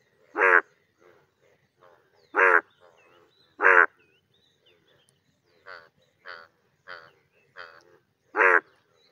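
A yellow monsoon-season Indian bullfrog croaks in loud, evenly spaced bursts, with quieter calls from other frogs in between against a quiet background.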